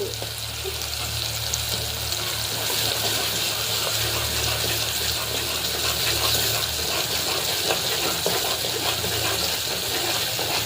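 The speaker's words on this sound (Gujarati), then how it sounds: "પાણી નાખ્યું" Water gushes and sizzles loudly as it is poured into a hot pan of onion curry, a constant frothy hiss with bubbling underneath, no voices.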